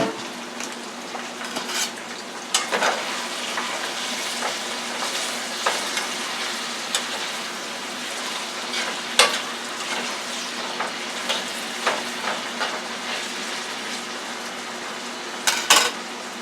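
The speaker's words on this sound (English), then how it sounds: "now we're going to add the red peppers after the onions been cooking for about maybe 2 minutes" Red peppers added to cooking onions sizzle steadily in a pan, a continuous frying hiss with scattered clinks and scrapes of a utensil stirring, with no talking.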